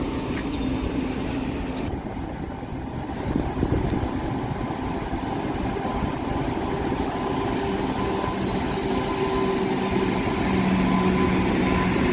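Steady rumble of a Satavahana Superfast Express with new LHB coaches running at speed, heard from inside as a continuous loud roar with low track noise and faint tonal hums, no talking.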